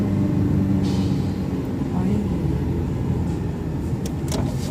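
A car accelerates through heavy city traffic in Ankara during a driving lesson, heard from inside as a steady, close engine rumble with a few faint clicks and road noise.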